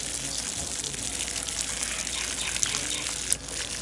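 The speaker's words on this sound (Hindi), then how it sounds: "हर पौधे को ना उसके पास पास पानी लगा देंगे और बाकी का छिड़काव कर देंगे।" Steady, continuous rush of water sprinkled over garden plants in a home lawn, a close broadband splashing hiss that runs without pause.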